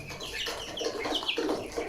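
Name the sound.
chickens clucking on a poultry farm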